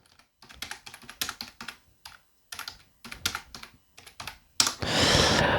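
Close, crisp typing on a computer keyboard comes in short bursts of rapid key clicks separated by brief pauses, ending in a louder rush of noise.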